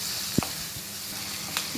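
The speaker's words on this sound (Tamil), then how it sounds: "உப்பும் ஆனியன் சீக்கிரம் வதக்கி வச்சிடும் பாருங்கள்." Onion with salt sautéing in a pan for a banana blossom stir fry, a soft steady sizzle with a couple of brief clicks of a utensil against the pan.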